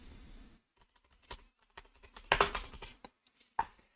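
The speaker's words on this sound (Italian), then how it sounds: "nel motore di ricerca andare a digitare Defender UI" Computer keyboard typing a search query into a web browser's search engine: irregular bursts of crisp, close key clicks with short pauses between them, heard alone with no talk.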